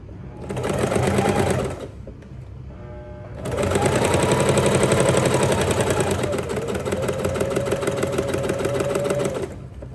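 A sewing machine stitching fabric runs in a steady, close mechanical whir, stopping briefly early on and then resuming in one long continuous run.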